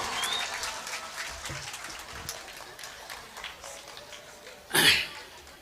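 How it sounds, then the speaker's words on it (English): Conference audience in a hall gives a round of applause, a moderate spread of scattered clapping that carries on steadily before a brief louder burst near the end. "I would like to request you to give a big round of applause."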